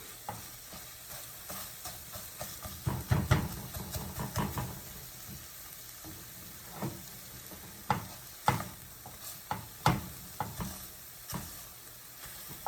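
A vegan egg substitute fries in a pan under a soft, constant sizzle, punctuated by repeated scraping stirs of a utensil against the pan at irregular intervals.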